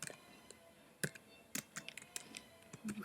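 Quiet clicking of a computer keyboard being typed on, irregular taps and a few sharper key strikes spread over a few seconds, close and faint with no talking.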